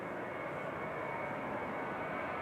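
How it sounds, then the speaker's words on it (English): A Ryanair jet airliner takes off at Manchester Airport, its engines a steady, broad roar that holds evenly for the whole stretch without a break, heard from a distance with no voices over it. "Ryanair on the roll, heading to Rome with flight 3204"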